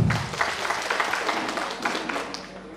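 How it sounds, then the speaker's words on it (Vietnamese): Audience applause at a Vietnamese Lunar New Year 2023 office gathering, a dense steady wash of many hands clapping that carries through the whole stretch at moderate loudness, with a faint voice mixed underneath. "cảm ơn một tràng pháo tay lớn nữa"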